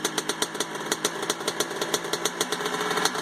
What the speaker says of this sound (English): Alright, so there's the bike running.